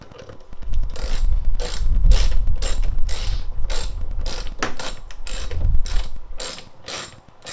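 A hand ratchet tightens a 10mm bolt on the side mirror of a 2001 BMW E46 M3. Rapid, loud, close pawl clicks come in an even rhythm of quick strokes with no voices.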